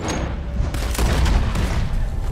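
Gunfire from the Red Dead Redemption 2 video game booms out during an onboard standoff. Two or three loud, heavy shots land within a couple of seconds over a rumbling backdrop, and no one speaks.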